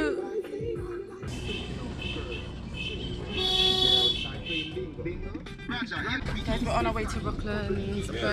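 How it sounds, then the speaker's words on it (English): Car horn honking on a winding road in Jamaica, a few short toots and a longer blast heard from inside a moving vehicle, mixed with road rumble and a busy, noisy background. "they do like the horn honking just to let people know that we're coming around the corners"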